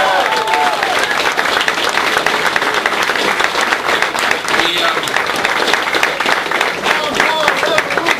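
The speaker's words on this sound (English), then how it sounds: "how about a round of applause for Congressman Ron Paul?" Audience applause for Congressman Ron Paul at a presidential series event, a loud, sustained wash of many hands clapping at an even level throughout, with occasional voices and cheers mixed in.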